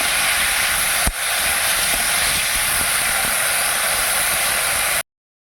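Mustard paste and ground green chili fry in a pan, giving a loud, steady sizzling hiss with one sharp click near the start and no voices, cutting off abruptly.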